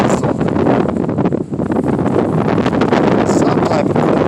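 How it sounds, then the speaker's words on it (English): Strong gusty wind buffets the microphone in open desert terrain near Las Vegas, a loud, steady roar with rough fluctuations throughout. "I gotta get out of this wind."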